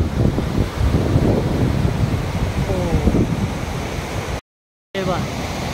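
Chorchavdi waterfall at Dahivad near Deola roars as a steady broadband wash of falling water with wind buffeting the microphone, close and constant, broken by a brief dropout near the end.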